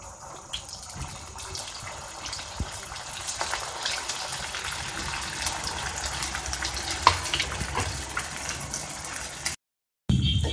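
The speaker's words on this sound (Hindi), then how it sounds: "अब हम इसको डीप फ्राई करेंगे हम एक पैन में ऑयल गरम करेंगे" Potato and vegetable bread rolls deep frying in a pan of hot oil, a steady broadband sizzling hiss with occasional crackles and pops, close and continuous for about ten seconds before a brief cut.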